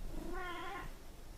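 A house cat lets out a single drawn-out meow, close and moderate in volume, over a steady background hiss.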